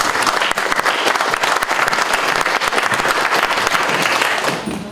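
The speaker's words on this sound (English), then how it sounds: "let's give him a round of applause." An audience at a Martha's Vineyard community forum on immigration applauds, dense continuous clapping that stays loud and fills the room from start to finish before trailing off at the very end.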